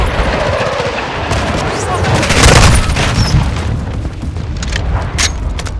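Air support strike in Call of Duty: Modern Warfare II multiplayer on the Zarqwa Hydroelectric map: dense rumbling blasts and rapid gunfire mix into a loud, continuous barrage, swelling midway and holding steady, with voices talking over it.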